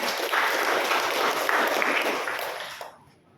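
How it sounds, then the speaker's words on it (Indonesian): A church congregation breaks into steady, enthusiastic applause, a full room of clapping that holds strong for a few seconds before fading out. "Beri tepuk tangan buat Tuhan."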